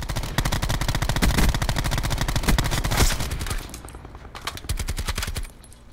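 Rapid bursts of automatic gunfire from a shooter video game, loud and close, with dense repeated shots through most of the stretch and a brief lull before more firing.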